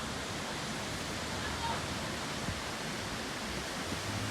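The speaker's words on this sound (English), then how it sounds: "Just came to this waterfall, lots of traffic." A mountain waterfall on the Annapurna trek roars as a dense, continuous wash of falling water, loud and close, filling the whole scene without pause.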